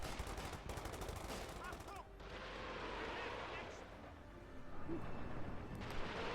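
Gunfire and battle noise from the World War II strategy game Company of Heroes 2 play as a dense, continuous layer of shots and bursts. A voice talks over it throughout, with a brief lull near the two-second mark.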